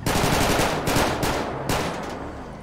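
Gunfire in a GTA roleplay game as shots are aimed at Suburban SUVs' tyres: loud, close bursts of rapid automatic fire in several volleys, each fading briefly before the next.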